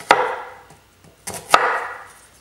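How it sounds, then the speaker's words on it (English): A knife cuts through an onion on a cutting board in two distinct sharp chops, each followed by a brief crunchy slice, close and clear with no talking. "And we're going to go ahead and just dice this onion."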